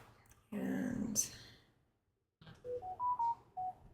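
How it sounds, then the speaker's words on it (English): A phone beeps through a quick run of separate electronic tones at varying pitches, close and clear in a quiet room, after a brief burst of rustling handling noise with no talk. "I guess I should have silenced my phone too."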